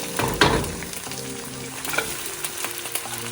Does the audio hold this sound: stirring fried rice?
yes